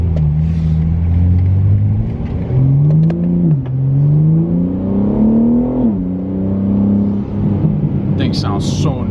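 A manual BMW G80 M3 fitted with a non-resonated midpipe exhaust pulls away from a green light, its deep exhaust note rising through the revs with shifts in between, heard from inside the car.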